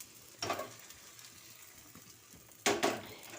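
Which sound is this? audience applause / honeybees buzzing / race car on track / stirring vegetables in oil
stirring vegetables in oil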